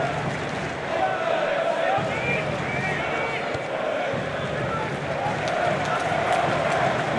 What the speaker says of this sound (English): the crowd are enjoying what they're seeing here, you can probably tell from the atmosphere